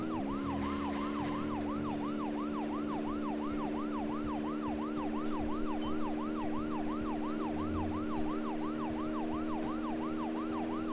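Car siren in Deadly Premonition, a fast repeating yelp sweeping up and down in a quick regular rhythm, continuous and steady over a constant engine hum.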